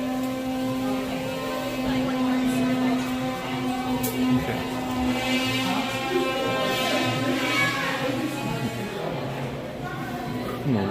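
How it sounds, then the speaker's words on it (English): A vacuum cleaner runs in a resort lobby, giving a steady, fairly loud motor drone with a constant whine that holds unchanged throughout, with no talking. "and they got a vacuum going"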